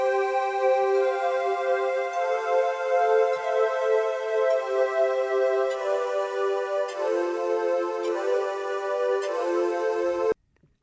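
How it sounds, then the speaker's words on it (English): Korg Wavestation Pluck 2 synth sound with an added percussive attack plays a steady stream of bright, shimmering notes, loud and continuous with no talk, then cuts off abruptly. "that uses the Wavestation sound called Pluck 2"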